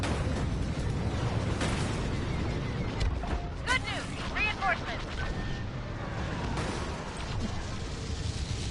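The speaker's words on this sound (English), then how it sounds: "lots of explosions around me for some reason, more than usual" Dense rumbling explosions and battle noise from the Star Wars Battlefront II video game roll on steadily throughout, with a voice talking over the din.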